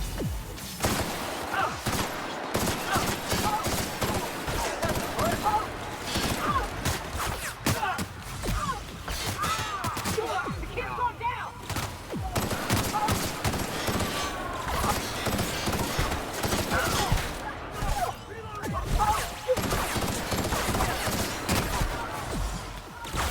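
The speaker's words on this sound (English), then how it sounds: "Who's shooting at me?" Rapid bursts of video game gunfire rattle almost without pause, with a sustained fusillade of many overlapping shots and some crashing impacts, loud throughout.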